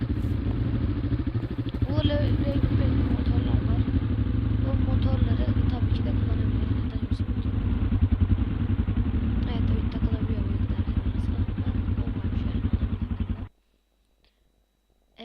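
A loud, continuous motorcycle engine drone from a Minecraft mod runs steadily for most of the clip, then cuts off abruptly near the end.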